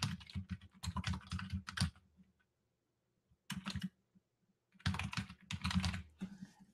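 Close, quiet keyboard typing in rapid bursts of key clicks, separated by short pauses of silence, with no voices.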